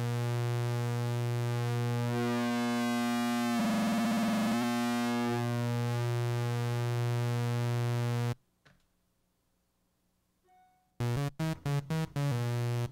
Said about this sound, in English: The brute factor adds a nonlinear and chaotic element to the sound.